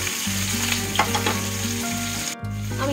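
Pointed gourd (potol) pieces sizzle loudly in hot oil while being stirred, with a dense close hiss, scraping strokes and a low steady hum from the stove underneath.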